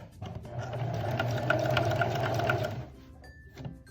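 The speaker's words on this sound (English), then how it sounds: "Continue sewing." A sewing machine stitches a mini dress bodice with a steady, close whirring hum that runs for a few seconds, then stops and leaves a faint click and a short high tone.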